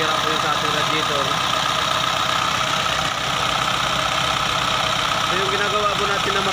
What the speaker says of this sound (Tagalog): Isuzu po ito, 4HF1 engine, overhead cam po.